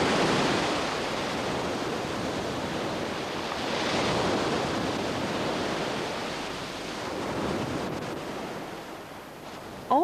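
Sea waves breaking on an eroding coastline, a broad continuous roar of surf that swells and recedes in slow surges, with wind buffeting the microphone and no voices.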